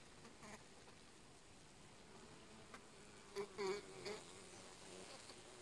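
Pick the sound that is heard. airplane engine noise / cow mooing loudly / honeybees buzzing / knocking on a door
honeybees buzzing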